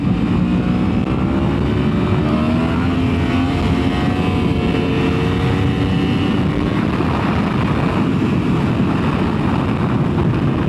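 A 2024 Yamaha R1M sport bike with raw exhaust ridden through the countryside at dusk, a continuous loud engine drone with shifting tones under heavy wind rush, no talk.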